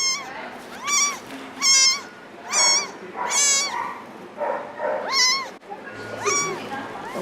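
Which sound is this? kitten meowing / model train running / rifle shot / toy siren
kitten meowing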